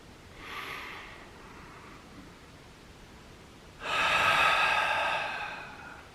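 Two deep breaths close to the microphone: a soft inhale through the nose, then after a pause a louder, longer exhale through an open mouth.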